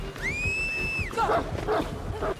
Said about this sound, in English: One will have a single whistle, and that's when she sends the dog to attack.